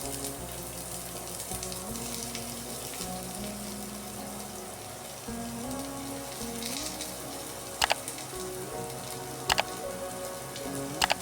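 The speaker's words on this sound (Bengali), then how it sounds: "তারপর কড়াইতে পেঁয়াজটি দিয়ে দেব" Onion frying in hot oil in a wok gives a continuous crackling sizzle, like rain on a surface, beneath steady tonal background music, with a few sharper pops near the end.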